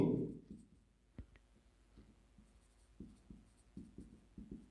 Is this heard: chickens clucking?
no